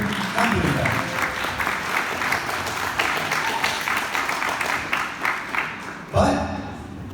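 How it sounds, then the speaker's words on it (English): Audience applause from a crowded room at a speaking event, a dense steady wash of clapping that holds for several seconds, with a speaker's voice faintly mixed in and a louder burst near the end. "Give yourselves a round of applause, actually, as a matter of fact."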